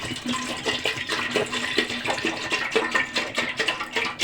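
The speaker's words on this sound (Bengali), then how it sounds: "পাতিলের মধ্যে আমি ঢেলে দিচ্ছি রসগুলো" Date palm juice poured from a container into a cooking pot for making payesh, a steady splashing, gurgling stream of liquid that runs continuously and fairly loud throughout, with no talking.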